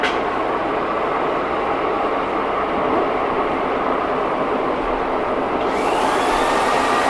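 Metal lathe taking a light facing cut on cast iron with a brazed tool, a loud continuous rumbling roar with broadband grinding noise, close and steady, with a brighter hiss joining near the end.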